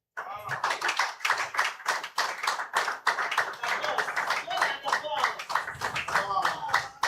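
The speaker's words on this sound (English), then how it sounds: "Please a round of applause for my boss." Audience applause at a youth conference, a brisk stretch of many hands clapping close by, irregular but continuous, with voices mixed in underneath.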